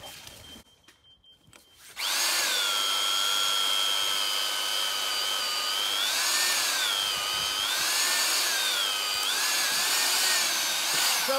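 Power drill bores holes into timber for a garden room build, a steady loud whine rising and falling slightly in pitch as the bit bites, starting abruptly after a quiet moment and running continuously up close.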